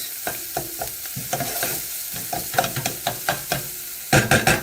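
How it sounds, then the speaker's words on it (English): Onion softening in a frying pan, a steady sizzle broken by repeated scraping stirs and clacks of a utensil, growing louder toward the end. "So I'm going to put the onion on soft for a moment"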